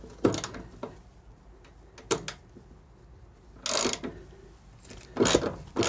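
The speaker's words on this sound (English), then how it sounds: "So it's a 13mm socket on a ratchet." A 13mm socket on a ratchet works loose the anchor points inside a camper van, giving several bursts of clicking ratchet strokes between quiet pauses, close and fairly loud.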